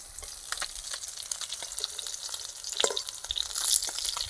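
Tilapia fish frying in hot oil in a wok, a steady soft sizzle with crackles and spatters, occasional stirring or turning sounds, no voices.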